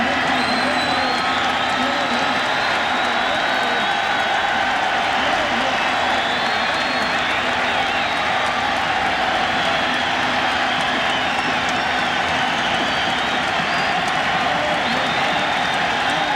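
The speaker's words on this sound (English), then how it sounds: "This Atlanta crowd wants out number 2 right here." A large Atlanta baseball stadium crowd at a 1996 playoff game roars and cheers continuously in a dense, steady wash, with a broadcaster talking over it.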